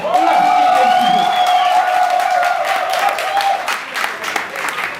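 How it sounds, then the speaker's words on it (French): An audience at a cocktail bar competition bursts into loud sustained applause with some cheering and whoops, a dense continuous clapping wash while a voice rises briefly over it early on. "On applaudit un petit peu."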